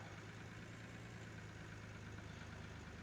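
A low, steady engine drone from road traffic in Farming Simulator 19 holds evenly throughout, a faint continuous hum without distinct pass-bys and with no talking.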